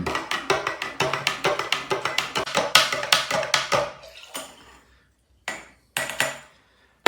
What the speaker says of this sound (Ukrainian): Ну Тепер все добре перемішуємо, друзі.